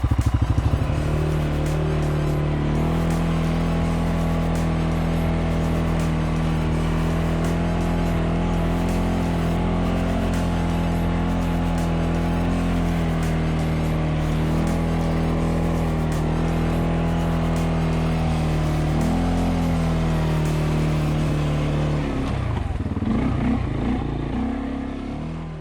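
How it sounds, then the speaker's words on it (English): A 250 motorbike engine labours through very soft sand on a remote Australian coastline, holding a loud, steady, strained drone for over twenty seconds before the note drops away near the end. "Just digging into this really soft sand, so Dane's letting the tyre down a little bi"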